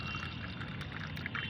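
Water used to rinse raw lentils is poured off, giving a faint, steady trickling pour that runs continuously for a moment with no voices.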